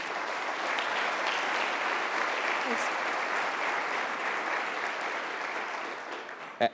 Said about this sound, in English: So if we could give them a big round of applause.